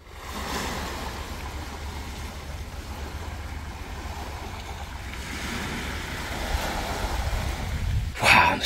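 Ocean surf on the shore near Banana Island, Coron, Palawan, heard from inside a resort room with two fans running: a steady, continuous wash of waves with a low rumble, no one speaking.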